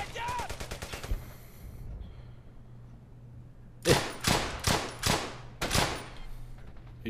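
Gunfire in Brothers in Arms: Hell's Highway: a fast run of automatic shots early on, then a short pause before several loud, booming single shots and bursts.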